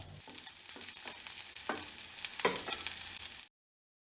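Sliced onion sautéed in a pan with ginger and garlic, giving a steady close sizzle with a few soft stirring scrapes, no talking, and an abrupt stop near the end.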